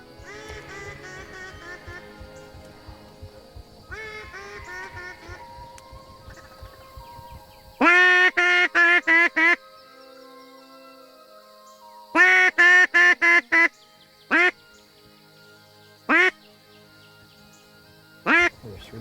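Ducks and geese call from a pond, with several bursts of loud honking and quacking in clusters, alternating with quieter stretches of softer calls.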